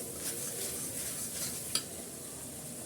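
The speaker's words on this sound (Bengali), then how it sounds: "ভালো করে মশলাটা আমি কষিয়ে নিচ্ছি" Spices cook in a pan as salt is worked in, giving a quiet, steady sizzle with light stirring and one sharp utensil tap midway.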